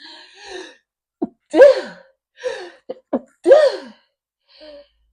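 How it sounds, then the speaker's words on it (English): A person sneezes twice, each with sharp gasping inhales before the burst, close and isolated, with short breaths and sniffs between. "hang on, I have to sneeze."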